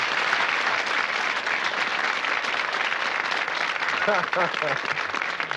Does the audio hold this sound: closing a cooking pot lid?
no